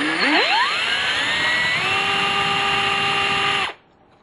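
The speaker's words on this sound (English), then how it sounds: "drill all these holes out" A small power drill spins up and bores holes in a homemade circuit board. A rising whine settles into a steady high-pitched buzz for a few seconds, then cuts off abruptly, close and alone.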